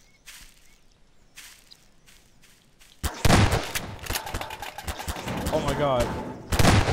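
Fireworks go off in the sandbox video game Garry's Mod, first as faint scattered pops and then as a loud, sustained barrage of crackling bursts. Excited voices talk over the noise.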